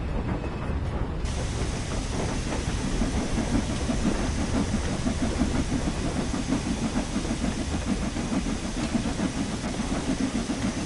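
A steam locomotive on a West Cornwall local line in the Train Sim World 5 game runs steadily, with a loud continuous chuffing rumble and rhythmic rail clatter throughout, and no voices.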